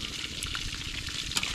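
Food fries in a pan at home in a Vietnamese kitchen, giving a continuous crackling sizzle with small pops, close and fairly quiet, with no talking.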